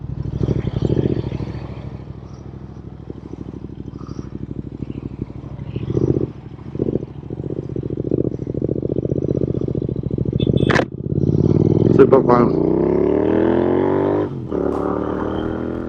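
A tuned Royal Enfield Interceptor engine idles with a deep, even rumble, then revs climb sharply in a few rising bursts before settling back, loud and close.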